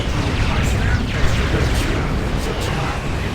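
A photon grenade explodes in the real-time strategy game Dawn of War 2 Retribution, a loud, dense, rumbling blast that fills the whole moment, with someone talking over it.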